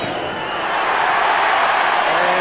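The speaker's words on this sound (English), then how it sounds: "Crowd trying to put him off" A large stadium crowd at an Australian football match, West Coast against Geelong in 1993, roars and jeers steadily, a broad distant swell of voices trying to put off a kicker lining up a 45-metre shot.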